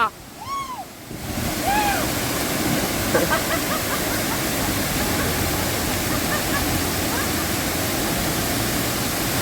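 Ozar waterfall in Bhirwande, Kankavli roars with a dense, constant rush of falling water, close and loud, after a brief moment of voices and birdsong at the start.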